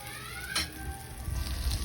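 Hot oil sizzling in a pan as an upo omelette and shrimp fry, a bright steady crackle with a brief louder burst of spatter near the middle, heard close and with no talking.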